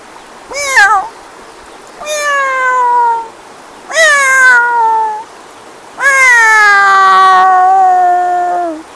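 A man imitates a cat's meow in four drawn-out calls, loud and close, the last one longest, each separated by short silences, with no other sound around them.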